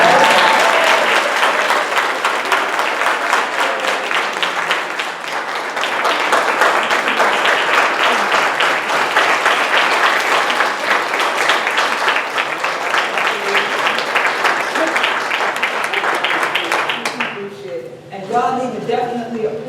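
A government-hall audience at the Department of Justice breaks into sustained, dense applause after a presentation, loud and continuous for most of the stretch before fading into a few scattered claps and voices.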